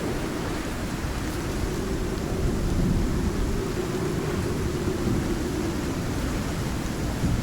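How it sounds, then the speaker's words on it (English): A video game thunderstorm fills the whole stretch with a loud, steady roar of rain and rumbling thunder, swelling slightly midway, with no voices over it. "These storms are always so super loud."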